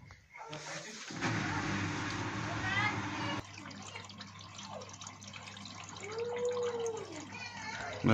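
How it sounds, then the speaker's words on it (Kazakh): Water runs and trickles from the detergent drawer of a leaking Samsung washing machine, a steady close flow heard beneath someone talking. "Көріңіздер, осылай су ағып жатыр."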